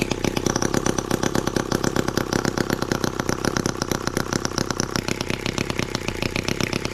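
An M14 twin cylinder tractor engine runs at a steady idle, close and loud, with a fast, even chugging pulse throughout and no voices.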